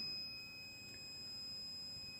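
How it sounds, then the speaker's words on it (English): A Lopolight navigation light controller sounds its audible alarm after a lamp circuit is broken: a steady, high-pitched electronic buzzer tone that holds continuously at a faint level with no pauses. "I can now reset and mute the alarm, the audible alarm"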